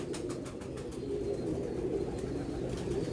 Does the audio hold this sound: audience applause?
no